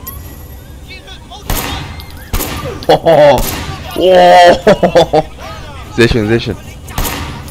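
Sleeping Dogs gunfire rings out as sharp, repeated shots in short bursts, loud and close, while someone talks excitedly over and between the blasts.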